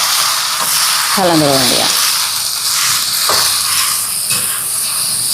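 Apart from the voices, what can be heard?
drumstick leaves frying in a pan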